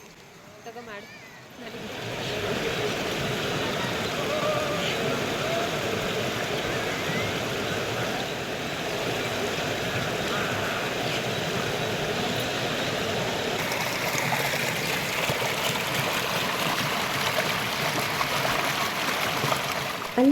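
River water at a bathing ghat in Srirangapatna: a steady, close, broadband rush and gurgle that starts after a brief quiet moment and continues unbroken for nearly twenty seconds.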